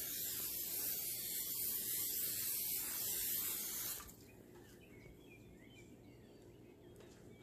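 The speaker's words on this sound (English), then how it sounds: "Spray some oil on the grill." Oil sprays onto a kebab grill in a strong, continuous hiss lasting about four seconds, then cuts off abruptly, leaving quiet room tone.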